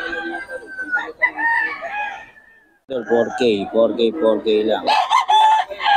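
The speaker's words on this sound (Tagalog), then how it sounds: "maraming manok to" Roosters crow loudly and repeatedly at a Bocaue flea market poultry stall, long drawn-out calls one after another with clucking between, while someone talks nearby.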